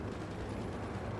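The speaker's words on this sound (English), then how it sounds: "I also want to nuke all along the front line in England" A nuclear strike detonating in the strategy game Hearts of Iron IV, heard as a sustained, dense low rumble that stays loud and steady throughout with no clear onset or decay.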